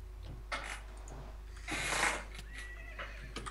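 A horse whinnies in Minecraft beside a portal, a loud drawn-out neigh standing alone over a steady low game hum, with a few short clicks around it.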